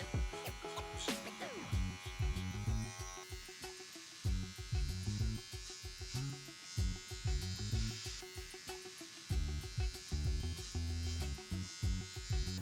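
Electric hair clippers with the blades fully open cutting hair, a steady close buzz whose pitch and loudness dip repeatedly as strokes pass through the hair.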